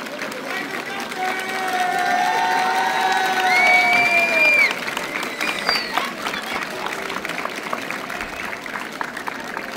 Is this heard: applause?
yes